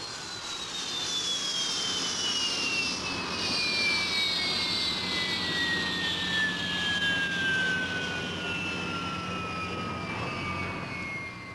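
A jet aircraft launching off an aircraft carrier deck aboard HMS Eagle, a loud continuous engine roar with a high whine that slowly falls in pitch as it holds steady throughout.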